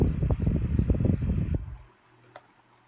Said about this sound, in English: That noise, that pulsing noise, has always been with this fan.